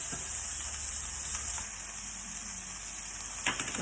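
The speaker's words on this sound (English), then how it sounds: "keep frying them until it's nice and brown" Food sizzles and crackles steadily in a hot pan while browning for chicken curry, a constant hissing fry with occasional soft pops and clinks.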